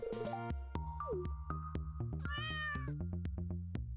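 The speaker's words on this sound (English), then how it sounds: "A kitty cat!" A video-game cat meows once over a bright, plinking game melody, with the meow standing out clearly above the steady music.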